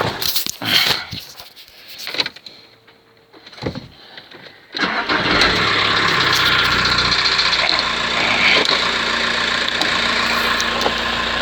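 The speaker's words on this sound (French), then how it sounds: "On va démarrer le moteur et puis on va faire chauffer" A car engine treated with a Steel Seal head gasket repair product cranks and catches, then settles into a steady, loud idle that continues without a break.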